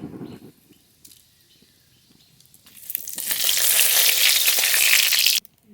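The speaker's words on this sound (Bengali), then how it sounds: "ফড়ন করে নেব সর্ষের তেল গোটা জিরে" Whole cumin crackles as it's tempered in hot mustard oil: a quiet stretch with faint clicks, then a loud, steady hiss that starts suddenly and runs for about two and a half seconds before cutting off.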